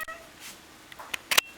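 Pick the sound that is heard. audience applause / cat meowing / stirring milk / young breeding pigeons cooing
cat meowing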